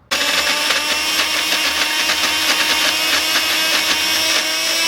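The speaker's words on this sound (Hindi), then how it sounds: "अब इसको अच्छे से करते हैं ब्लेंड।" A kitchen blender whirs steadily at close range, grinding cashews, paneer and a little water into a gravy; a loud, continuous motor drone with a gritty, churning texture and no voices.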